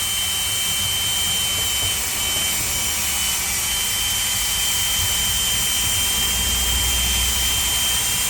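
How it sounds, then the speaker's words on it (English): A Milwaukee M12 rotary tool with a 1/8 inch chuck cleaning a dirty surface on a 1966 AMC Rambler Rebel, giving a continuous high-pitched whine with a steady whirring roar, close and loud throughout. "I have a little M12 Milwaukee Dremel that has a 1/8 inch chuck."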